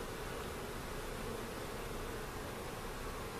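A swarm of bees fanning, a dense and continuous close buzzing hum that stays even throughout, with no voices.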